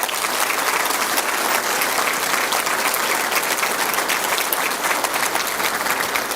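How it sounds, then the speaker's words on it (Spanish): A church auditorium audience applauds the fathers on Father's Day, a dense, sustained wash of clapping that holds steady and loud throughout without speech. "Démosle a todos un aplauso."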